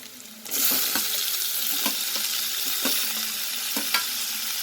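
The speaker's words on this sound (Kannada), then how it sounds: "ಈಗ ಟೊಮ್ಯಾಟೊ ಆ್ಯಡ್ ಮಾಡ್ತಾಯಿದ್ದೀನಿ" Tomato going into baby capsicum and brinjal already frying in a pan: a loud, steady sizzle starts suddenly and holds throughout, broken by several soft stirring knocks at regular intervals, close and without any voices.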